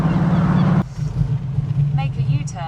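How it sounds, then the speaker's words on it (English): Heard from inside the car while driving, a TVR S3 with a leaky exhaust, likely where the downpipes meet the middle section, gives off a steady, loud, low drone. Faint voice-like sounds come in toward the end. "I don't know if you can hear the exhaust is quite leaky."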